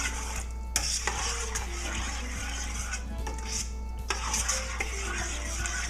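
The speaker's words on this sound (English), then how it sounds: "So we're gonna stir that up." A spoon stirs diced tomatoes with Italian herbs in a pot, giving scattered scraping and clinking knocks against the metal over a steady low hum, close and fairly quiet.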